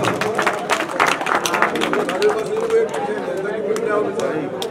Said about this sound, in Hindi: एक बार जोरदार तालियां इस भाई के।